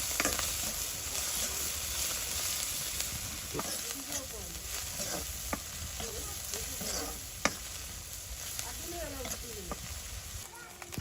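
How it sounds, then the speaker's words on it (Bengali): Small river fish sizzle steadily in hot oil in a village kitchen, a continuous crackling hiss with occasional stirring scrapes and light clinks, fairly close and even throughout. "ইসা মাছগুলো আগে একটু ভাজি করে নিতে হবে"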